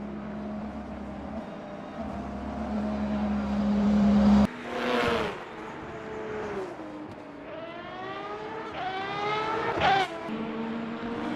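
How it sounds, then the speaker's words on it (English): A race car engine in the Le Mans Ultimate racing game, during a pit stop and driver change in a six-hour race at Qatar, drones steadily, then revs and sweeps through rising gear changes, loud and without talking. "then we come in to give the car back over to Elliot for his final time in the car for this race"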